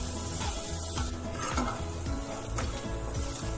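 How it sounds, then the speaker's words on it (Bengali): Onions frying in a pan sizzle steadily and loudly while being stirred, with scraping and clinking of the utensil against the pan throughout. "পেঁয়াজটাকে বেশ ভালো করে লাল করে ফ্রাই করতে হবে।"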